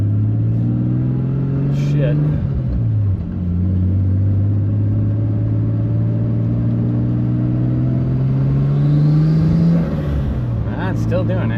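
Nissan 240SX with an RB25 engine misfiring on a test drive, its ignition under repair: loud, close engine drone rising and falling through gear changes, with uneven stumbling and someone speaking briefly over it.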